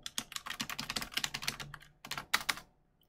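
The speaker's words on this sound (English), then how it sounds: "So we type IPADDR" Fast, continuous typing on a computer keyboard during Red Hat Linux terminal work, crisp close key clicks in two bursts separated by a short pause, no voices.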